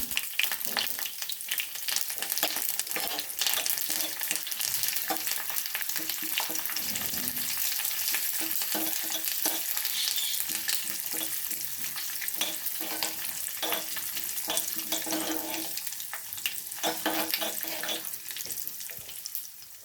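Whole dried red chilli, curry leaves, white and black mustard seeds, sesame and fennel seeds frying together in hot oil for a tempering, a loud continuous sizzle with crackling pops and occasional stirring, close and unbroken.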